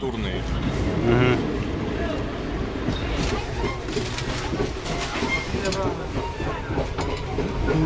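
An Indian passenger train rolls along with steady rumbling and rhythmic clickety-clack from the wheels, heard from inside a sleeper carriage while people talk over it.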